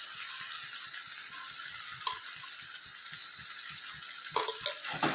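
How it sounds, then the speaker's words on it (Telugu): Ginger garlic paste sizzles steadily alongside prawns in a hot pan for a Telugu prawn curry, with a dense crackling fry punctuated by soft stirring clicks throughout. "ఇదిలా వేసుకున్నప్పుడు అల్లం వెల్లుల్లి పేస్ట్ వేసుకోవాలండి."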